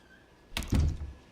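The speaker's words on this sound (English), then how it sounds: "With the door closed shut" A door shuts in the video game A Light in the Dark on Nintendo Switch, with a short scrape followed by a solid, close thunk that fades quickly into quiet.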